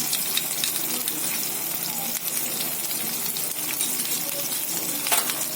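Curry leaves and green chili sizzle steadily in hot oil for a beetroot khichdi, a close, continuous frying crackle with scattered sharp pops and no talk.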